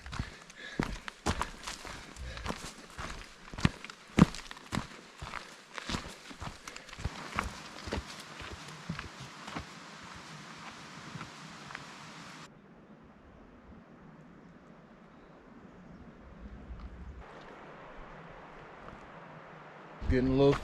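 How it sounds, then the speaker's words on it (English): Footsteps on a Colorado hiking trail: a steady run of close, crunching footfalls for about twelve seconds, then a quieter stretch of faint outdoor ambience. "footsteps."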